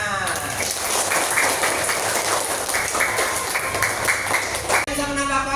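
Students applauding in a classroom lesson, a dense, steady patter of many small hands clapping together, fairly loud, ending abruptly as a voice starts talking.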